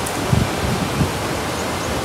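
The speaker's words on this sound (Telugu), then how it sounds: "సో ఇది గాయ్స్ ఎత్తిపోతల వాటర్ ఫాల్స్." Ethipothala waterfall in a quiet natural setting, a dense broadband rush of falling water heard steadily and fairly loud, with no talk.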